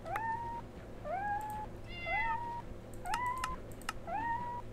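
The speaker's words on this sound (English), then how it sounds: "I think the cat's drowning." Five rising, whistle-like meows from a cat drowning in a Minecraft-style modded game (IC2), each one bending upward and holding, spaced about a second apart over a steady low hum.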